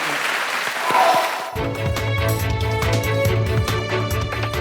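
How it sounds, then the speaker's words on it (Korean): An audience claps after a talk at a lecture event. A few scattered claps swell into a short burst of applause, which then gives way to a steady musical tone and sustained background noise. "여러분 큰 박수 부탁드리겠습니다"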